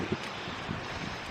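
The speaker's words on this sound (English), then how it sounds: "Boy, is it windy right now." Strong wind blows outdoors on a homestead, a brief, steady gusting roar buffeting the microphone.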